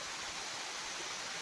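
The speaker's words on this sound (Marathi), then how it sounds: "त्याचप्रमाणे हा दोब्बूरचा धबधबा बघा." The Dobbur waterfall in Bhamragad rushes in a continuous, dense roar of falling water, loud and steady with no voices.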